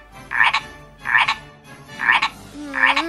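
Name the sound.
frog croaking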